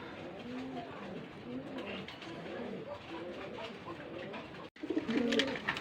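Pigeons at a breeding farm coo repeatedly at close range, soft throaty calls in rhythmic phrases, briefly cutting out and then returning louder.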